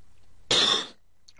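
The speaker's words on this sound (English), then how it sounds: "Cough." A single short, sharp cough cuts through near silence, close to the microphone, with a faint trailing sound after it.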